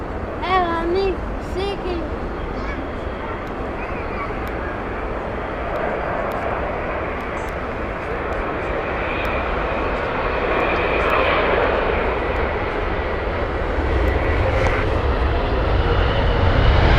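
Jet airliner departing Heathrow Airport on runway 27 right, a steady loud roaring engine rumble that builds slowly toward the end, heard from a spotting position outdoors with faint background chatter.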